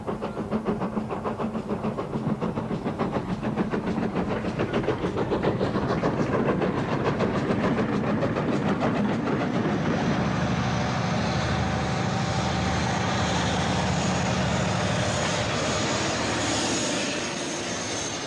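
Steady, loud rumble of a railway train running along the track, continuous throughout with a broad mechanical roar, the kind of heritage steam line run by volunteers near Swindon's old GWR works.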